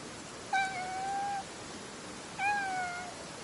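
A cat meows twice in a video game, two drawn-out plaintive meows spaced about two seconds apart over a faint steady background hiss.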